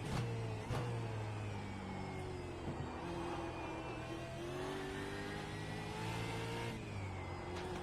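A V8 Supercar engine at Sebring in a racing video game revs and accelerates, its loud, droning tone climbing steadily with a couple of brief dips as gears change, heard alone without talk.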